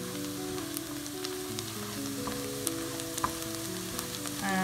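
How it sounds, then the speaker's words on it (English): A green chili frying in a pan for cream methi chicken, a steady crackling sizzle with light stirring clicks, a faint tonal hum underneath and no speech. "one green chili is gone in. Now we give it a stir."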